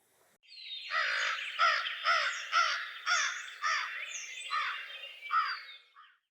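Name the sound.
crow cawing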